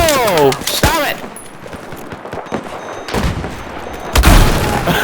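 Video game battlefield combat, Call of Duty or Battlefield style, with bursts of automatic gunfire and a grenade blast, a loud boom near the end, while a voice talks and exclaims over the shooting early on.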